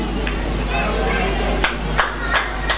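Audience at a Star Public School prize ceremony in Kasba Harra, Meerut, on 26 January, clapping in a few sharp, separated bursts over a low steady hum and faint background voices.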